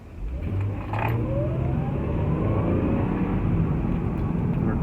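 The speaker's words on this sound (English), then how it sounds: "I'm going to accelerate, then we're going to cruise," A car pulls away with a rising engine tone that climbs as it accelerates, then settles into a steady, continuous drone of cruising, close and fairly loud with no talk.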